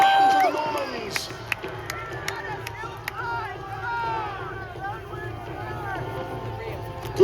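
Crowd cheering at a Battle of Hastings reenactment, a broad roar of voices with sharp clashing hits and shouts throughout, while a commentator talks over it.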